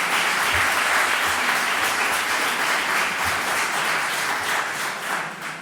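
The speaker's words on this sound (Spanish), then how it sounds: "Me emocionan sus aplausos." A large audience applauds at a speech event in Spain, a loud, dense and steady wash of clapping that fills the whole stretch and eases off slightly at the end.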